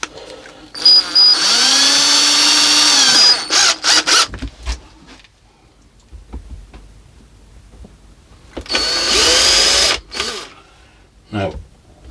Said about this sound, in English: I'll just pre-drill some small holes.